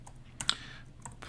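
A computer keyboard typed on quietly, with a few soft, crisp key clicks spaced unevenly over a moment.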